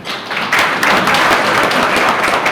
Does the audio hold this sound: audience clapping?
yes